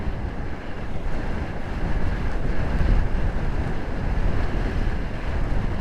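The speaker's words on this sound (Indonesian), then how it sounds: "Gokil, anginnya gede banget loh." Strong wind on the Pantura road near Subang roars continuously and loudly across the microphone, a dense buffeting rush with no voices.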